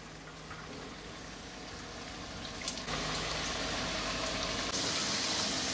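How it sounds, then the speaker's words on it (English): Three potatoes frying in hot mustard oil, giving a steady, hissing bubble that grows louder and fuller partway through, with no voices. "I'm going to first fry 3 potatoes"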